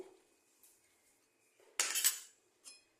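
A spoon scrapes and clinks briskly in a small container while arrowroot is mixed into a slurry, a short loud burst of stirring with a couple of fainter taps before and after.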